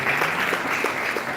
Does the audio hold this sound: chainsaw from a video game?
no